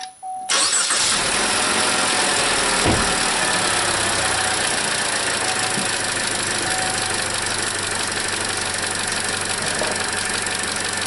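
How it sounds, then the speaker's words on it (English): A 2017 Chevy Trax engine cranks and fires up, then settles into a steady, loud idle close by with no talking, running smoothly after a vacuum part was replaced. "Start the car up."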